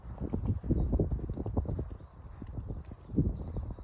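A horse cantering during a showjumping lesson in an arena, hoofbeats thudding in a steady three-beat clip-clop rhythm, fairly close and continuous throughout.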